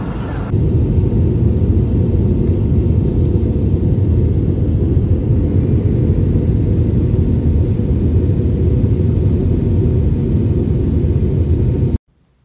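Passenger airplane landing in Bengaluru, heard from inside the cabin: a loud, constant roaring rumble of engines and airflow that holds steady and then cuts off abruptly near the end.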